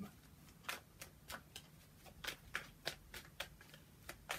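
Tarot cards shuffled by hand at close range, a series of crisp riffling and snapping bursts in an irregular rhythm over a quiet background, then cards drawn from the deck.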